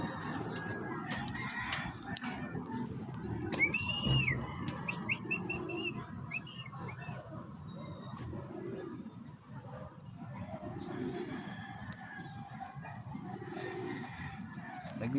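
A mother hen clucking with her chicks peeping outdoors, soft repeated clucks and scattered high chirps, with roosters and other birds faint in the background.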